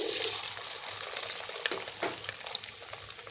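Onions sweating in clarified butter in a soup pot for a broccoli cream soup, a soft, even sizzle with light stirring scrapes, close by and without voices.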